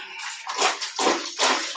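Hot water gushes steadily into a bathtub, a loud, close, continuous splashing stream that swells in three broad surges over a couple of seconds, with no talking.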